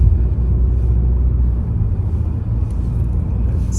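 A newly bought car rumbles steadily from inside the cabin, with a loud, continuous low engine and road drone and no talking.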